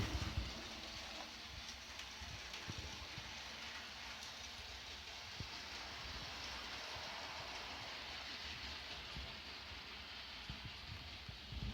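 A model train runs continuously on its track layout, a faint, steady rattling hiss with soft clicks, heard from nearby in a quiet room.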